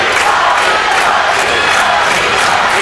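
Holmen home crowd at a high school wrestling dual against Tomah, loud and sustained yelling and cheering that fills the whole stretch, urging their wrestler to pin his opponent.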